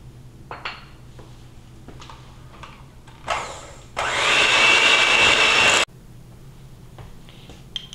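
Quinoa apple cake batter being mixed: a loud, steady whirring burst of roughly two seconds stands out between scattered clinks and light kitchen handling noises.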